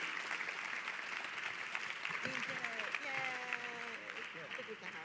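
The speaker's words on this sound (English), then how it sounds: "Please, round of applause for John." Faint audience applause after a keynote at a research summit, a low steady clatter of hands heard from a distance, with a voice speaking over it in the second half.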